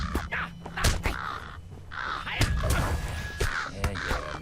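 Crows cawing in the online game Lord of the Rings Online, several harsh repeated caws at close range, loud and spaced irregularly over a steady game ambience.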